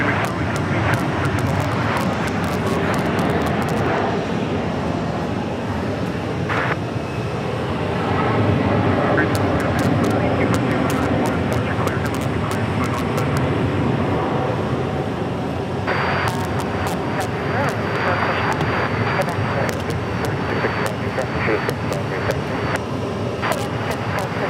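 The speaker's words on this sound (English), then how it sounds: "that American Airlines flight 2118 should be making its way in soon. Landing shortly." An American Airlines Boeing 737 comes in to land at Phoenix airport as a broad, steady roar of jet engine noise lasting the whole stretch. Brief voices and crackly radio chatter sit in and under the rumble.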